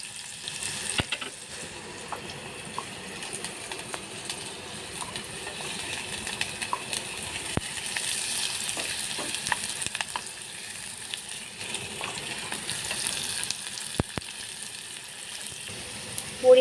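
Carrots frying in a pan for one-pot Maggi, a continuous soft sizzle with intermittent scrapes and taps of a spatula stirring throughout.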